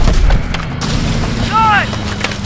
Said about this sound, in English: More missiles! Keep going!